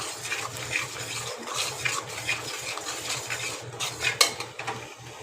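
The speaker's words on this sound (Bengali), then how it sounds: "মশলাটাকে ভালো করে কষিয়ে নিচ্ছি।" A spoon scrapes and clatters against a pan while a watered-down masala spice paste cooks for an ilish fish curry with potato and pointed gourd. The knocks are near and rhythmic over a soft bubbling fry, with no voices.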